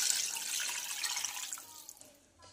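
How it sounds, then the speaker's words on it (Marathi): Water poured from above into a pot of chicken soup, a steady splashing, trickling pour close by that tapers off toward the end. "वरून सुद्धा पाणी घालूया"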